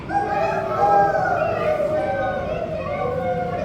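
A voice imitates a rooster's crow with a sustained, wavering call during a children's story about a hen and her chicks. It is loud and close, with tonal speech-like qualities throughout.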